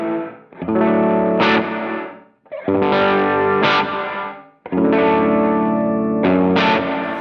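Three strummed distorted guitar chords ring out through a Crazy Tube Circuits Sidekick Jr pedal, each cut off abruptly by a gated reverb, with brief silent gaps between them.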